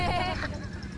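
A goat on a farm gives one short wavering bleat at the start, close and fairly loud, then fades into low background noise.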